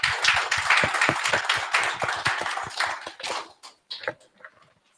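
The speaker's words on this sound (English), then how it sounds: "A round of applause to our guests" An audience at a Lusaka startup-week fireside chat applauds its guests, the clapping dense and steady at first, then thinning to a few scattered claps before dying away.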